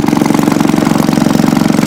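A 1939 Maytag 72 engine runs steadily nearby, its fast, even firing pulses chugging loud and uninterrupted with no voices.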